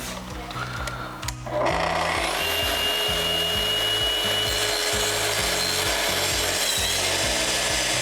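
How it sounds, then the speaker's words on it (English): A loud power saw roars steadily as it cuts through a plywood board for a kitchen cabinet, with a brief clatter before the cut and a sustained whine throughout. "Let's get this board cut."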